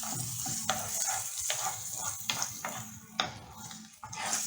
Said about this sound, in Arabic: ناخد تشويحه وبعد كده ننزل بالكبده والرز